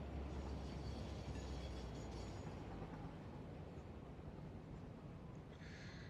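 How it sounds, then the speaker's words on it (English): A train ride in the factory-building video game Satisfactory, aboard an aluminum freight train: a continuous low rumbling roll with a steady broadband rush, heavier low drone early on, and no voices. "I think I got on the wrong train."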